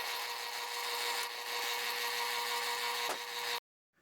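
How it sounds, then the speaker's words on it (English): Drill press boring holes while building a motion-sensor under-cabinet light from Harbor Freight flashlights; a steady, loud whining motor hum runs close for about three and a half seconds, then cuts off abruptly into silence. "here's the obligatory drill press scene"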